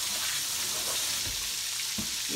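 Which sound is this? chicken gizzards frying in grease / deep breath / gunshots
chicken gizzards frying in grease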